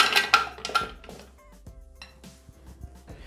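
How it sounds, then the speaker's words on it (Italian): Ice cubes clatter into a Thermomix bowl for cinnamon granita, a burst of sharp hard clinks and knocks up front that thins into a few scattered rattles. "aggiungiamo i cubetti"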